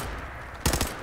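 Gunfire from the video game Fallout 4, a short rapid burst of shots fired from the hip that breaks in suddenly after a quiet stretch, loud and close.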